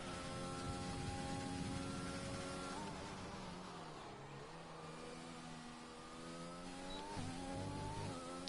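Formula 1 car engine screaming through a lap at the Hungary circuit in an F1 video game, a steady high-pitched whine rising through the gears with brief dips at upshifts and braking, loud and continuous with no talking.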